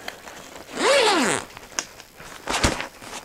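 A zipper on a compact Espiro Magic Pro stroller's canopy extension pulls open in one smooth, close rising stroke, followed by a couple of faint clicks and a short rustle of fabric.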